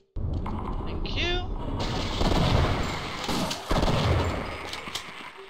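Gunfire in the video game Half-Quake, with dense, loud, continuous bursts of shots and booms filling the whole stretch, occasionally punctuated by heavier blasts.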